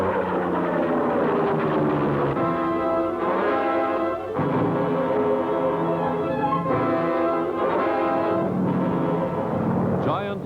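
P-47 Thunderbolt fighter planes streak overhead in a 1943 wartime newsreel, their engines droning in repeated rising and falling passes, with scratchy archival tone and music-like layering throughout.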